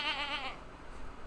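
A single wavering goat bleat from the farming game Stardew Valley, close and clear, trailing off after about half a second into quiet background.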